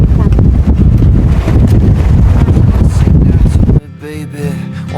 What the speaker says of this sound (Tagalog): Normal lang yan na malakas yung hangin ba.